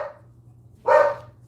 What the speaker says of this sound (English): Stop barking at the same fucking people!